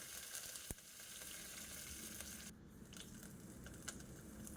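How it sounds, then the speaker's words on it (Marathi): Cumin and mustard seeds crackling and sizzling in hot oil in a kadai, a steady faint frying hiss with a few sharper pops, close and unaccompanied by voices. "जिरं आणि मोहरी तडतडली की त्याच्यामध्ये जाणार आहे लाल मिरची आणि कढीपत्ता"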